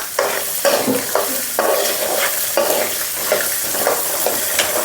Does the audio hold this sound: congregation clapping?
no